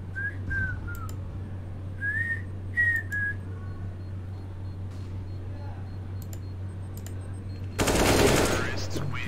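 Gunfire in a Counter-Strike match between G2 and Navi, with a burst of rapid automatic shots near the end over a steady game hum, after scattered short sharp pops and whistling tones.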